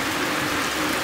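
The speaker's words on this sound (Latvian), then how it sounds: "Lietus gāzi tagad tā pa īstam sāk pieņemties spēkā." Heavy rain pours down during a thunderstorm in Jelgava, a dense, steady broadband hiss that fills the whole second with no voices.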